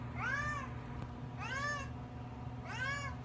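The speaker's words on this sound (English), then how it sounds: "can you hear my cat?" A cat meows three times in a steady rhythm, each call clear and drawn out, over a low constant hum.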